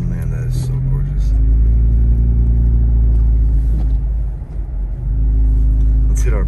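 A car churns through deep snow during a blizzard at Big Bear Lake, California, its engine a heavy, continuous low rumble that swells as it accelerates. A voice talks over it early on.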